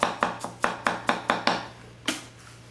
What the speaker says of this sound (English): We'll go ahead and do one more rock cut onion for you